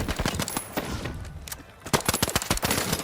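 Rapid automatic gunfire in the shooter game THE FINALS comes in loud, dense bursts of shots, with a brief lull in the middle before the firing resumes.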